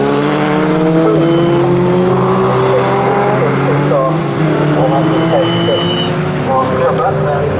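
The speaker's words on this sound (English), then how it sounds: "Mark Glover, he's coming now, turning his way through Nelson." Race cars at Snetterton circuit during a 750 Formula Championship race, engines whining and rising in pitch as several cars pass in succession, loud and continuous with overlapping revs.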